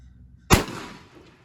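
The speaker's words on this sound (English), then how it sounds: "load one barrel only, leave the other one empty, and fire" A single loud shot from one barrel of an American Gun Co Knickerbocker shotgun during a test fire, a sharp close blast following near silence and then fading over about a second.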